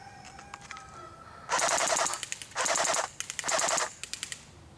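A CYMA G36C airsoft rifle fires full auto at an outdoor range: three rapid bursts of sharp mechanical cracks, close and loud, separated by short pauses and a few single shots.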